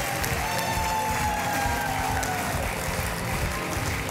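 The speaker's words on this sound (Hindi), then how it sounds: "तालियां." A television game-show studio audience applauds steadily and loudly throughout, a dense wash of clapping with some cheering and crowd noise underneath.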